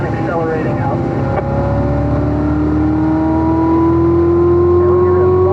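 Corvette Z06 race car accelerating out of a corner, the engine note climbing steadily in a loud, close, sustained rising whine, with a voice talking over it.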